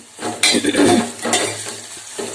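Onion hits hot oil in a pan for a home-style beans palya, followed by loud close scraping and stirring with a utensil against the pan over a bright sizzle, in two main bursts with no one talking.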